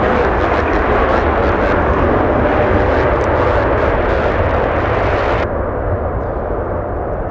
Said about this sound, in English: let's go for the departure. It's Air Tahiti Nui Dreamliner flying to Paris